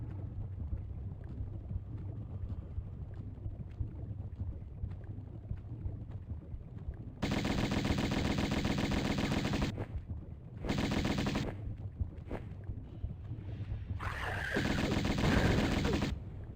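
Gunfire from Tomb Raider (1996) arrives in three dense, loud sustained bursts, each lasting a second or more, with short gaps between them and quieter game ambience before the first burst.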